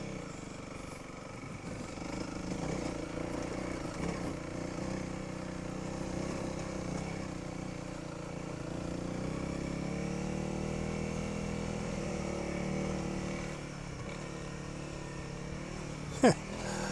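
A Honda CRF300L motorcycle with stock suspension rides over bumps and undulations, its engine a low steady droning hum throughout, ending in a sharp brief knock.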